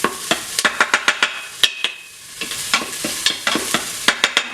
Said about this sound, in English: It's nice and fragrant. You can hear it sizzling.